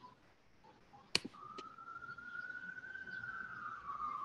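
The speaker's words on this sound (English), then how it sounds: "I'm sorry if you can hear the sirens outside my window, London." A siren wails steadily from outside, faint and distant, preceded by a couple of sharp clicks, with no talking.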